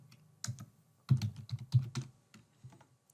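Someone types on a computer keyboard in short bursts of close, crisp key clicks with brief pauses between, no speech over it.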